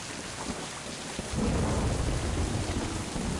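Rain pours in Mind: Path to Thalamus, a soft steady hiss that swells after a second into a heavier downpour with a deep rolling rumble like distant thunder.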